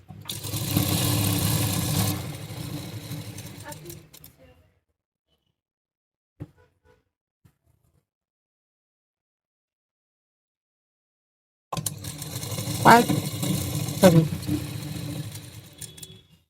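A sewing machine stitches the side seams of an A-line gown in steady whirring runs, loud and close, stopping for several seconds of near silence partway through before starting again.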